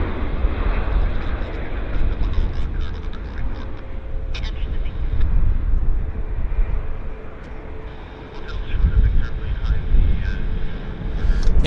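Airliner on an airport runway at Vancouver Airport, a continuous low rumbling engine roar heard from a distance, rising and falling slightly, with wind buffeting the microphone and voices talking over it.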